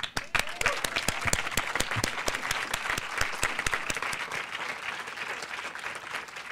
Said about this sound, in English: help me to give a big round of applause to.